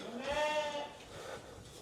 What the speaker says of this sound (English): So a bit noisy. So here's the lambs.